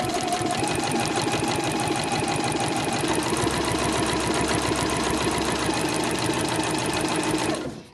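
A sewing machine runs steadily stitching along the edge of a fabric dust bag, a fast continuous mechanical whir and needle clatter held for nearly the whole stretch before stopping abruptly at the end.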